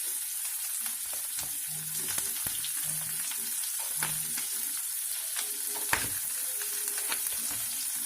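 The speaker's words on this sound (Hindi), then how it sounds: "साथ के साथ अपने इस मसाले को भी स्टर करते जाइए, हिलाते जाइए।" Chopped tomatoes and masala sizzle steadily in a hot pan for Indian rajma, with intermittent scrapes and clinks of a spoon stirring throughout; close and continuous, no talking.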